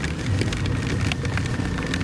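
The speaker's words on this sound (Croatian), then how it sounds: "Evo sada kiša počinje baš lijepo da pada." Rain begins falling during a drive on an unfamiliar route, a steady broadband patter with soft drop ticks over a continuous low road and engine rumble, close and even throughout.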